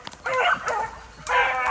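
Hunting dogs at a kennel bark and yip excitedly before a youth rabbit hunt, high, whiny, overlapping cries in two close bursts.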